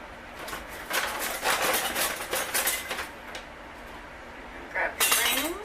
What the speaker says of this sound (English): You're going to grab your lids, and you're just going to set them in there.